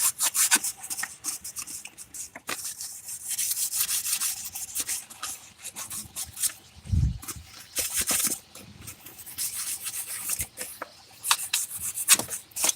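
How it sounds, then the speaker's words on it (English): Sandpaper rubbing solder off a copper pipe fitting, a steady scratchy rasp of repeated strokes close up, with a brief low thump midway and no talking. "Got to get this sanded off."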